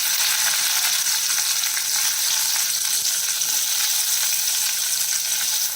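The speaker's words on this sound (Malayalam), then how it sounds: "നമ്മൾ എടുത്തു വെച്ചിരിക്കുന്ന വെണ്ടയ്ക്ക ഇതിൽ ചെറുതായിട്ടൊന്ന് ഫ്രൈ ചെയ്തെടുക്കാം" Okra (ladies finger) frying in hot oil, a dense, steady sizzle that stays loud and even from start to finish, close up with no talking.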